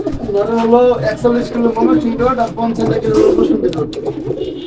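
Racing pigeons coo close by in soft, repeated throaty phrases, with someone talking over them.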